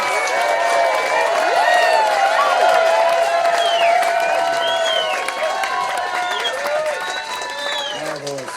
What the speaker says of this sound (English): You're applauding yourself.